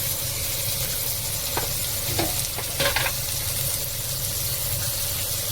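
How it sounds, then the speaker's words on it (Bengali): Ground turmeric, coriander, cumin and chilli powder fry in oil in a pan with a continuous close sizzle, broken by a few short scraping stirs of a spatula partway through; nobody speaks. "মশলাটাকে ভালো করে ভেজে নেব।"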